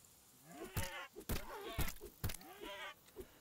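A boar in the Dawn of Defiance video game gives repeated bleating, grunting calls, several short bursts close up with brief pauses between them.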